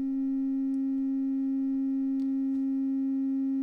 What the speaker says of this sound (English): start with a sine wave.